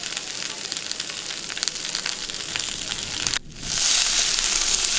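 Mixed vegetables frying in a pan with salt and turmeric for a Bengali curry. There is a steady loud sizzle and crackle, a brief cut, then a brighter, more intense hiss as frying continues, with no talking.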